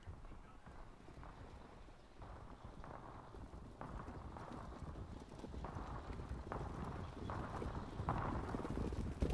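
Hooves of a field of ten trotters clatter in a rhythmic, building patter behind the starting gate at a harness race, growing louder over a windy, rushing background.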